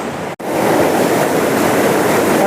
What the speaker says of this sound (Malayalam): കണ്ടോ വെള്ളം എത്ര ഫോഴ്സിലാണ് പോകുന്നത് മലമ്പുഴ ഡാമിൻ്റെ വെള്ളം